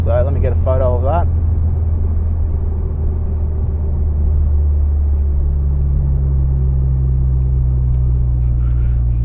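Turbocharged car after a launch-control 0-100 km/h run, its engine holding a loud, steady low rumble close by. A short burst of talk comes at the start.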